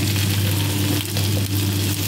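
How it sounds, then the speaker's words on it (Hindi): Okra (bhindi) frying in oil over a medium flame, a steady close sizzle with soft crackle running unbroken throughout. "यहाँ पर मैंने मीडियम फ्लेम पर रखा हुआ है और इसको जो है अभी हम फ्राई करेंगे।"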